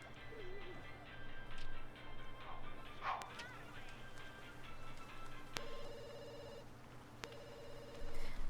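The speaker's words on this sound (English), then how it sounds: "The phone is always ringing." A telephone in The Sims 2 University rings in two short, fairly faint electronic bursts over a busy game background of music and effects.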